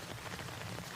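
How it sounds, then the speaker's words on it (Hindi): Steady morning rain hisses down in a dense, even patter outside a snowy campsite with no voices, filling the space outside. "बाहर बहुत बारिश हो रही है"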